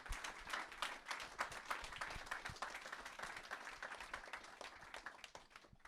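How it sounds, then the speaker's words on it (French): Faint, distant applause from a tech meetup audience for the speakers, dense overlapping claps running steadily throughout. "Je pense qu'on peut applaudir nos intervenants."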